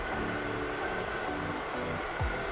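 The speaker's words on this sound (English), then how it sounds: "You're trying to use your blow dryer to blow with your cuticle of your hair." A hair blow dryer runs steadily while hair is styled with a round brush in a salon blowout, giving a continuous close, airy roar throughout with no talk.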